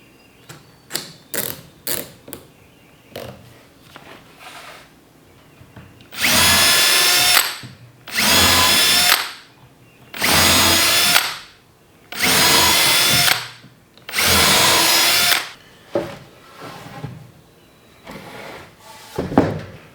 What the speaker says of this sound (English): I'm gonna pre-drill everything